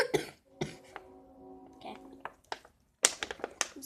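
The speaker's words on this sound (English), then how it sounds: "I'm sorry about my cough." Several sharp, harsh coughs from a person at home making slime, coming in separate bursts near the start and again toward the end, with faint voiced sounds between them.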